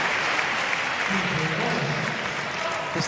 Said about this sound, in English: even the footballers there on their feet applauding